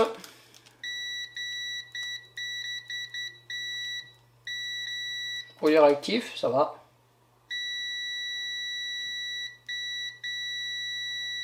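A UNI-T UT139C multimeter in continuity test mode emits a steady high electronic beep, sounding in a string of short repeated pulses and longer sustained tones, with a brief burst of talk in the middle.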